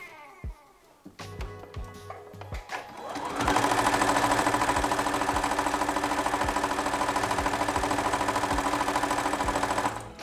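A sewing machine stitches strips onto a quilt-as-you-go square, starting after a few seconds of handling clatter and then running steadily and loudly at a fast, even mechanical rhythm close by until stopping near the end.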